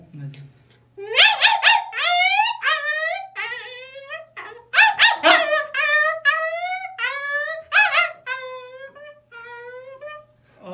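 A person imitates an angry dog with a run of harsh, growly barks and yelps, repeated in bursts that gradually fade.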